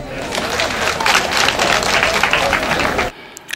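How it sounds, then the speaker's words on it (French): Loud, dense applause from a ceremony audience at a peace gathering in Duekoué, sustained for about three seconds before cutting off abruptly. "Applaudissez-vous très fort"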